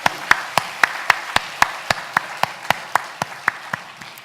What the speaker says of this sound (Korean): 박수를 먼저 올려드리도록 하겠습니다.